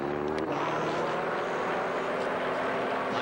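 Aerobatic airplane performing a tail slide at an air show, its propeller engine droning steadily and loudly at a distance throughout.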